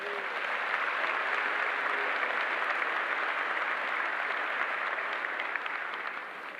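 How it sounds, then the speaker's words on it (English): Crowd applause for a colonel and the band at a Corps of Cadets commencement ceremony, a broad even wash of clapping that holds steady and then begins to thin at the end. "Join me in a round of applause for Colonel Smith and the band"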